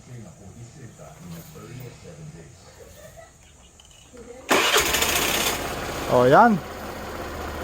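Suzuki Burgman Street 125 scooter engine cranking and catching, then settling into a steady idle; someone speaks briefly before and during the start, with birds faint in the background.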